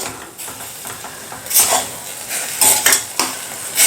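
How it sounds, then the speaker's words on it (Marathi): Salt being stirred into softened cooked vegetables in a pan for a millet fenugreek dumpling dish: scraping, clinking spoon-on-pan stirs come in a few bursts over a quiet background, close and fairly loud, no voices. "यामध्ये आपण चवीनुसार मीठ घालूयात मिक्स करून घेऊया"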